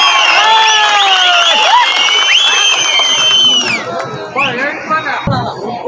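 An audience welcomes a guest at a public meeting with loud cheering, whistles and shouting over clapping, close and full, then easing into crowd chatter.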